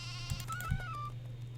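A sheep bleats in Nancy Drew: Haunting of Castle Malloy, one short wavering call over a steady low game hum, moderately close.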